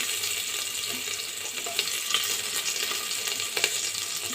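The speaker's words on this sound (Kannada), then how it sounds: "ಈ ಎಣ್ಣೆ ಕಾದ ನಂತರ ಇದಕ್ಕೆ ನಾನು ಜೀರಿಗೆ ಹಾಕೋತಾ ಇದ್ದೀನಿ." Cumin seeds and crushed garlic sizzle in hot oil for mushroom masala, a steady bright crackling hiss with a few sharper pops and spatters, no voices.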